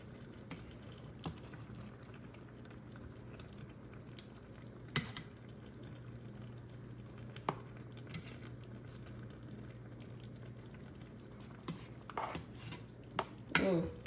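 Fried barbecue chicken sizzles steadily in a pan while a utensil clinks and scrapes now and then as the pieces are turned over, with a cluster of louder knocks near the end and no talking.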